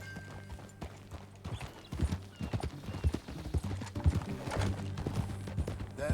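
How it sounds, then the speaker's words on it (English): Horse hooves clip-clop steadily across the ground in the video game Red Dead Redemption 2. The hoofbeats are close and even, with a faint whinny and light background sounds and no talking. "That a new horse?"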